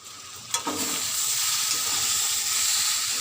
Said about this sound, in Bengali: পেঁপে আলু দিয়ে একটা সবজি রান্না করছি।